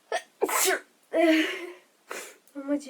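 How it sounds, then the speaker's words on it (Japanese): A young woman sneezes several times in quick succession, each sneeze sharp and close. Breaths and small voiced sounds fall between the sneezes. "ほんま自分ほんまにくしゃみ出だしたらほんまに止まらんなんですよ。"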